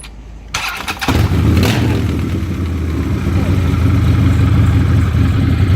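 A motorcycle engine cranks briefly, then catches about a second in and settles into a loud, steady, close rumble that keeps running to the end.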